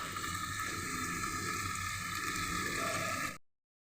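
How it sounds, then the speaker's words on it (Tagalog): Water pours steadily into a cooking pot, a continuous splashing rush with a rising fill tone that cuts off abruptly near the end. "Nalalagyan ko ng tubig"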